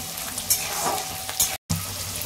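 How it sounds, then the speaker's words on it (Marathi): Garlic roasting in oil over a low gas flame gives a steady sizzle, with a few spatula scrapes and a brief dropout in the middle. "बारीक गॅसवर लसूण पण चांगला भाजून घ्यायचा"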